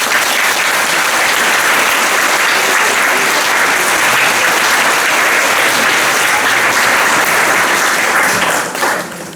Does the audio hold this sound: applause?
yes